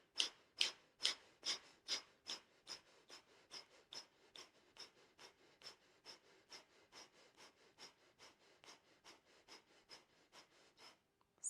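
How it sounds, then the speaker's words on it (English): Forceful yogic fire-breath exhalations pump out in a steady rapid series of about thirty sharp nasal puffs, strongest at first and gradually softer, close and alone. "notice that when you're making the forceful exhalations, inhalations are happening naturally"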